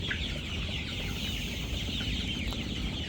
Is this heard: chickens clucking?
yes